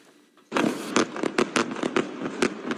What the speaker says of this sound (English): Explosions rock Gaza City one after the other as smoke fills the air.